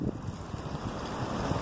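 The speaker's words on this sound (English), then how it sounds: "It's also very windy today." Strong wind gusts roar steadily across an open outdoor spot during metal detecting, buffeting the microphone with a constant low rumble and no other sounds.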